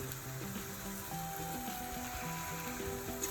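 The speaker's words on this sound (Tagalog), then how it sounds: "Then I'll put this one, the tomatoes" Tomatoes dropped into a hot pan while cooking ginamay sizzle steadily and softly, with a continuous frying hiss throughout and faint tonal kitchen background sounds.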